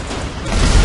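A truck explodes in a Spider-Man video game in a dense, roaring burst of low rumble that swells toward the end, building in loudness.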